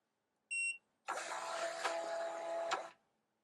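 A MUNBYN RealWriter 403B thermal label printer runs its automatic label identification, giving a short beep and then about two seconds of steady whirring motor feed, close and moderately loud, with no talk.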